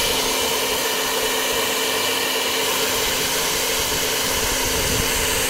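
A heat gun blows steadily and loudly as it warms vinyl wrap being smoothed over an X-ADV air filter housing, a continuous airy roar with a faint hum underneath that runs unbroken from start to finish.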